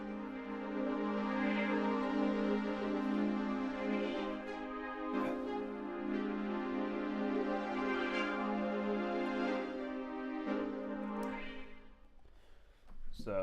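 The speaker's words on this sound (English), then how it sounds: "This one is just a motion pad." A motion pad synth from the Zonology plugin in FL Studio plays sustained, shimmering chords with slowly shifting texture, lasting throughout and ending with a brief swell, no talking over it.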